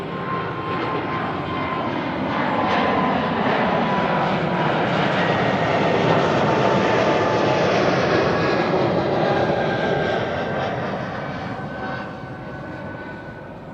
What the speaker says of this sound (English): these are wide bodies that are almost certainly going to be taking off from Kaagbaan here